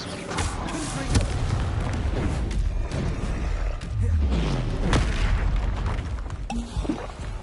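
Confringo spell blasts in Hogwarts Legacy during spell combat, a dense run of booming explosions and bursts that repeat through the scene over steady battle noise.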